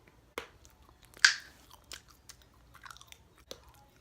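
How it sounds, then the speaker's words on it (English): Gum being chewed close to the mic, soft wet clicks and smacks spaced irregularly, with one sharper snap early on. "Gotta take my gum out."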